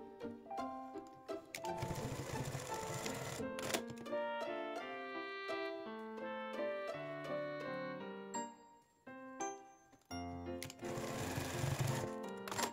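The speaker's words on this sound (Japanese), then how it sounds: "端から5ミリのところで仮縫いしていきます。" A sewing machine bastes the edge of a child's triangle scarf in quick stitching bursts that start and stop, interleaved with a soft melodic background tune and no talking.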